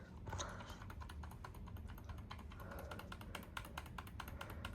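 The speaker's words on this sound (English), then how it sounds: "I'm just gonna keep on double clicking." Rapid plastic clicking, fast and steady, from a computer mouse being double-clicked over and over while a Mac boots with the option key held; close and dry, alone with no talk.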